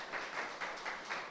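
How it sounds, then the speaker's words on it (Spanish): A church congregation applauds with faint, distant clapping that comes in soft rhythmic pulses. "Vamos a dar un aplauso al Rey."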